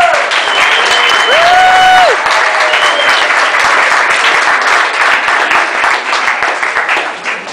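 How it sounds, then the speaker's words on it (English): An audience claps loudly and continuously at the 2007 Parthenon Prize for Fiction event, dense applause filling the whole stretch with a faint tone riding briefly over it early on. "So if you'll clap for them."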